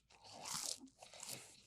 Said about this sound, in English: It's not crunchy enough on the outside or soft enough on the inside.